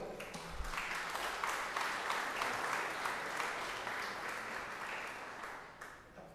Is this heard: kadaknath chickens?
no